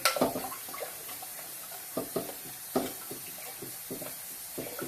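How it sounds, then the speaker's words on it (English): Water splashes and trickles into a metal pot at close range, a gallon being added for preparing goose, with faint clinks and irregular bursts of pouring over about five seconds. "get another gallon of water in here."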